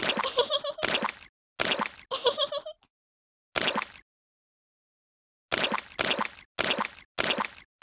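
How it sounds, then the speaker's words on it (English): Bursts of wet splashing and squelching come in quick runs with silent gaps between, like stomping through muddy puddles in a cartoonish Peppa Pig video game. "Splash in the muddy puddles!"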